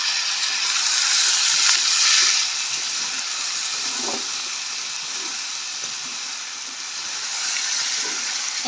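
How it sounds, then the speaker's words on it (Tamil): Potatoes sautéing in a hot pan give a steady, close sizzling hiss with occasional stirring scrapes and soft clicks, no voices over it. "இதுக்குள்ளே உருளைக்கிழங்கை போட்டு வதக்க போகிறோம்."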